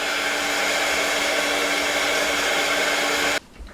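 A hair dryer blows steadily and loudly, drying matte Collage Pauge on a handmade beach card, then cuts off abruptly near the end.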